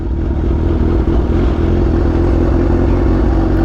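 A Kawasaki Ninja H2 motorcycle engine idling close and loud, a dense, steady mechanical rumble with faint clatter and no voices.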